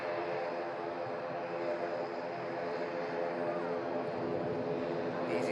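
EasyJet airliner rotating on takeoff from the runway, a steady broad engine roar held at constant loudness throughout, moderately distant with a faint voice underneath.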